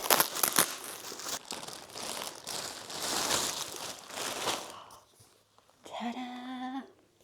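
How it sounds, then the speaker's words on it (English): Plastic parcel packaging crinkles and rustles as it is torn open and unwrapped, a steady close crackling for several seconds, followed by a brief voice. "So let's unwrap it and have a look."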